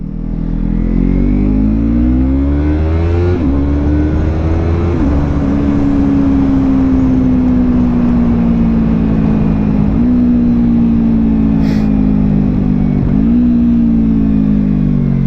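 A 2017 Yamaha MT-03 motorcycle engine drones loud and close while riding, holding a steady rev with several brief dips and rises as gears shift, alone without talk, over constant wind noise.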